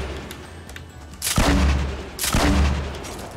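Two heavy explosions from explosives in Fortnite, the first about a second in and the second a second later, each a loud, sustained rumbling blast with deep low end, alone with no talk.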